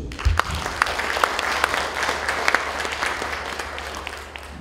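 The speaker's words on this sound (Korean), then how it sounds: "박수 한번 해주십시오" Lecture audience clapping steadily for a speaker, a dense, even applause from a room of people with a few louder claps standing out, holding for several seconds before slowly thinning.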